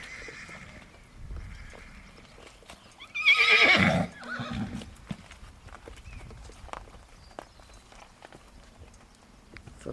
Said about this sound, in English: These are all really, really nice fillies.